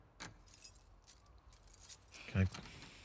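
Keys jangle in The Last of Us Part II, as faint scattered clinks under a quiet background, with a sharper, louder jingle near the end; a voice speaks nearby.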